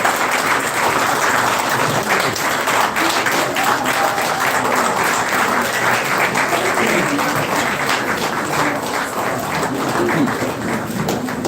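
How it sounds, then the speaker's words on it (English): A standing ovation from a large audience at a formal ceremony welcoming Professor Wole Soyinka, with steady, dense clapping that stays loud and even throughout, lightly mixed with crowd murmur. "join us with a standing and clapping ovation"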